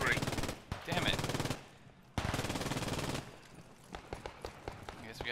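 Gunfire in the World War 2 video game Post Scriptum, sustained automatic bursts rattling loudly in two long stretches, then scattered shots with fainter background noise.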